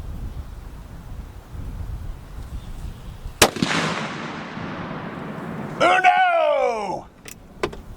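A single loud Noreen Ultra Long Range .50 BMG rifle shot cracks out mid-clip and rolls away in a long echoing boom, followed by a short mechanical clatter and brief talk.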